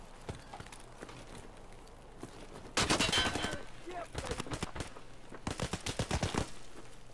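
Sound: SKS rifle gunfire in video game Escape from Tarkov

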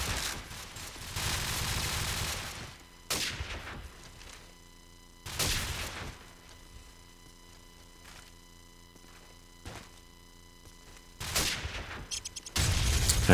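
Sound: gunfire in Call of Duty 4 match, video game

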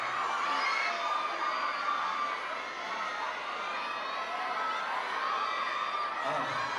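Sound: audience screaming and cheering

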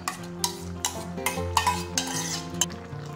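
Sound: stirring kootu with ground coconut paste in pot

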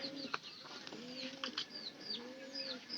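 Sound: pigeon

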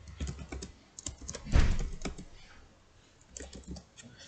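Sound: typing a password on a computer keyboard

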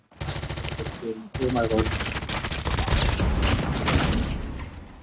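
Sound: QQ9 SMG gunfire in a video game

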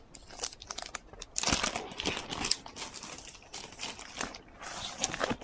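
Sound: cellophane wrapper being taken off a Panini card multipack

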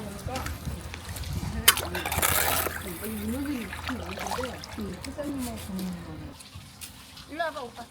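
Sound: water running from a faucet while cleaning

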